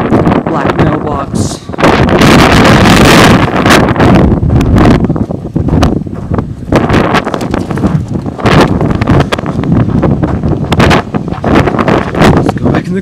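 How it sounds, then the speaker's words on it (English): Strong gusting wind outdoors at Area 51, roaring loudly and buffeting the microphone throughout, with voices speaking under the wind. "It's windy out here."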